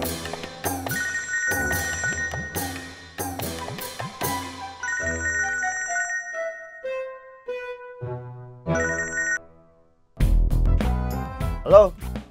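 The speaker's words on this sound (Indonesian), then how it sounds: "Telepon." Telephone ringing with a bright melodic ringtone, repeating its tune in loud close bursts for about ten seconds before it cuts off and a voice answers.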